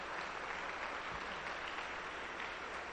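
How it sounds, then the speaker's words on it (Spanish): A church congregation applauds the pastor, a dense, even wash of clapping filling the room, fairly faint and continuous with no talk over it. "Lo vamos a recibir con fuertes aplausos para Cristo Jesús."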